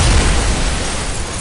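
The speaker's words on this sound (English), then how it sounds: "I caught a brilliant flash, followed by a stunning explosion." A loud, sustained explosion in an audiobook thriller, a booming blast with rumbling low-end roar and broadband debris noise filling the whole span without fading, no voices present.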